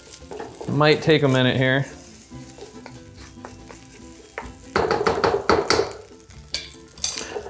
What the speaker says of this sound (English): you're gonna deglaze it with the liquid and adding all the other components to the dish